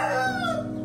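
A rooster crows in a farm coop behind a house where young chickens are raised, a single drawn-out call, close and fairly loud, that falls in pitch as it ends.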